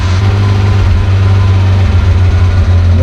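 A Suzuki Carry / Mazda Scrum kei truck (DJ51T / DC51T) with an engine fault idles close to the microphone, a loud, low, steady thrum with slight fluctuations in its rumble and no voices.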